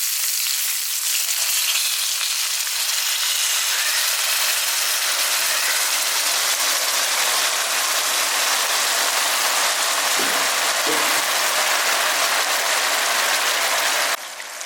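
Beef potstickers in an iron wok sizzle loudly and steadily after starch water is poured in, a dense continuous frying hiss with a few faint clinks near the end.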